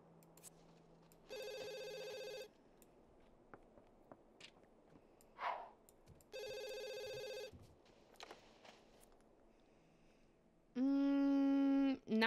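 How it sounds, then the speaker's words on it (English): Telephone ringing in The Sims 2, three electronic ring bursts spaced several seconds apart, the last louder and lower, with soft game footsteps and clicks in between. "This lady keeps calling for Martin and we keep saying he's not available."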